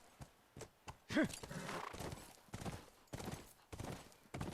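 Horse hooves clip-clop in the video game The Last of Us, a series of sharp rhythmic thuds with a brief whinny-like cry early on, fairly close and moderately loud.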